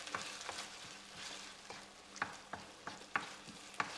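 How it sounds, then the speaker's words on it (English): Chunky tomato sauce simmers with a soft sizzle in a pan while a utensil stirs it, giving irregular scraping knocks and sharper taps against the pan over a steady low bubbling background, close and moderately quiet. "And literally we're just going to let that simmer for 2 or 3 minutes."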